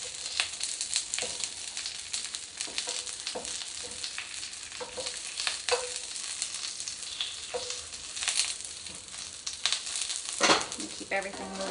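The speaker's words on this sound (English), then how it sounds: "let's go ahead and flip the onions over" Onions and garlic sizzle steadily in a pan as tongs turn them, with scattered clicks and scrapes over a constant crackling hiss.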